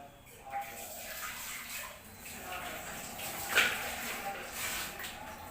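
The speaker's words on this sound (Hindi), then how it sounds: "हमें सबसे पहले इस ग्राइंडर को साफ कर लेना।" Water splashes and rinses inside a mixer grinder jar being cleaned before making a kadha, a steady soft wash of running water with a brief clink partway through.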